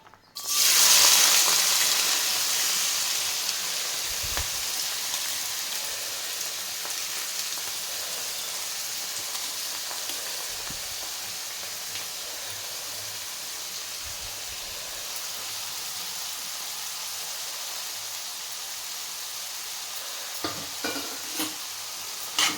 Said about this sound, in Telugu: ఇదిగోండి ఆయిల్ వేడైందండి ఇదిగోండి ఉల్లిపాయ ముక్కలు